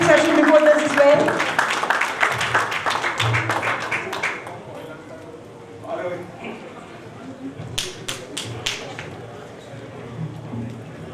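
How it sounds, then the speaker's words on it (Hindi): Applause from a literature festival audience rises briefly late on, a short patter of claps after a stretch of someone speaking over a microphone. "जोरदार तालियां हो जाए फिर से विनीत जी के लिए"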